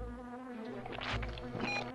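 Buzzing bees in The Grinch video game, a droning, wavering hum with a clear pitched tone, swelling louder midway and mixed with game effects.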